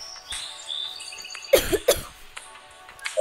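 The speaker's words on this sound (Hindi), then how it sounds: "भाई इतनी खांसी आती है ना," A person coughs a few times in short sharp bursts, close by, with faint game-like background tones and brief chirpy sounds around them.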